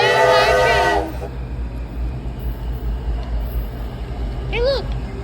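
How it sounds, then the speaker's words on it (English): Washington metro train arriving at a station, a low steady rumble under a brief high chime, with a short voice at the start and another at the end, the train noise holding close and even throughout. "Well, there's our train."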